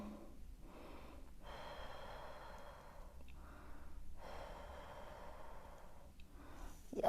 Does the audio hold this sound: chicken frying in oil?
no